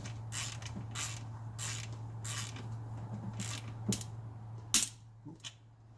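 Socket ratchet clicking in short repeated bursts as a 13mm socket runs down an alternator nut on a Pontiac Grand Prix, with a sharper metallic snap near the end, close and fairly quiet over a steady low hum.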